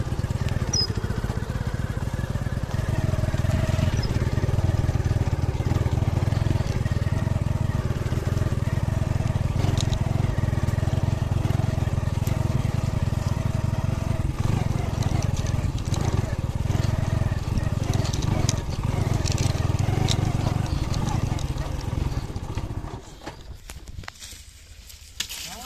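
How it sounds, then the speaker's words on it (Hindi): Motorcycle riding through farm fields of sugarcane, a steady low engine drone that holds for most of the ride, close and loud, then drops away near the end with rustling. "ये देखे खेतों में चल रहा हूँ मैं, बड़ी मुश्किल से बाइक चला रही है।"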